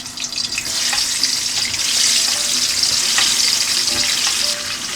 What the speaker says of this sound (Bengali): তেলটা একটু গরম হলে আমরা এই আলুগুলো একটু ভেজে নিব আর কি